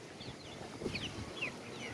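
Soft hen clucks and short chirpy calls scattered over a low windy rumble in a strong windstorm, faint and somewhat distant, several birds calling at irregular moments.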